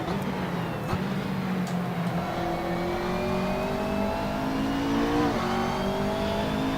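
McLaren 650S GT3 race car engine in Assetto Corsa at Zandvoort, revving and climbing through the gears with rising whine, a brief gearshift dip, and another car nearby; loud and continuous.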